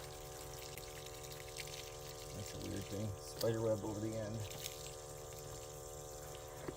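Water drains from the plumbing pipes of a cottage in a faint, steady trickle, with someone talking briefly over it and a low hum in the background.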